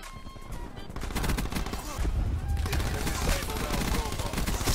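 Rapid gunfire from a Call of Duty Black Ops 4 match, dense bursts of shots running loud and continuous throughout, with a voice talking over part of the action.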